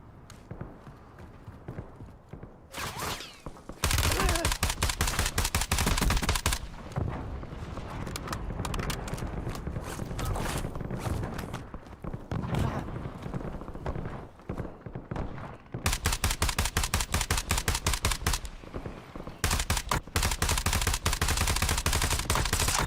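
Rapid bursts of automatic gunfire in the video game Warzone come loud and close, with long sustained volleys broken by brief pauses and shorter trailing shots.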